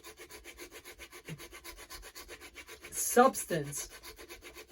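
Rubber-backed sandpaper scrubbing a tubeless tire in quick, even back-and-forth strokes, soft and close, with a brief spoken word near the end.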